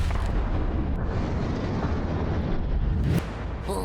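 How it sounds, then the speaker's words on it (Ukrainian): Rapid gunfire in an animated Italian-meme cartoon, a loud continuous burst of overlapping shots and booms lasting several seconds before cutting off. "Ліпше припини стрілянину."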